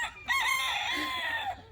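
A single rooster crows close by, one drawn-out cock-a-doodle-doo lasting over a second, clear and loud against a quiet background.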